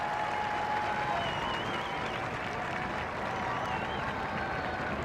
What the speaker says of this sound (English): the Queen acknowledges the support and the applause of the big crowd who've gathered here outside